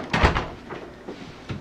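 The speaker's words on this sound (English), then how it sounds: "so we can shut this door" A door pushed shut in a room, a solid thump near the start followed by softer knocks and rattles, then one more light bump, close and moderately loud.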